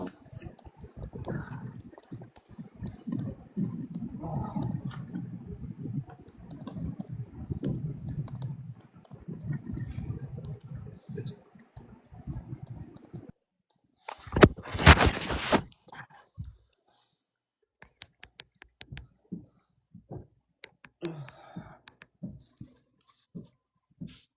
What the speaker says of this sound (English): Tippity tap on the keyboard. You guys can hear that?